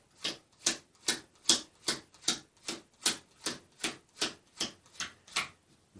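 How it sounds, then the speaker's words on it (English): Playing cards being dealt one at a time into three piles, a run of about fourteen crisp, close snaps at an even, quick rhythm, alone with no talk. "I'm now going to make 3 piles of cards"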